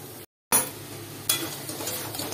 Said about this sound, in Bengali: একটু ভাজা ভাজা হবে, সুন্দরভাবে কষানো হয়ে যাবে।